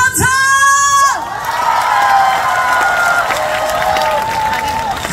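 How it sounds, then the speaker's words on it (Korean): Concert audience at a Korean broadcaster's anniversary show breaking into applause and cheering after a shouted call, a dense crowd roar with whoops carrying on loudly for several seconds. "아까보다 더 힘찬 박수 한번"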